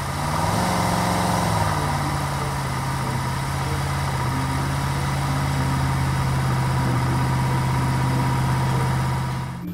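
Toy mining truck giving off a steady electronic engine hum with a low idling drone, loud and continuous throughout, with a brief higher tone near the start and no talking.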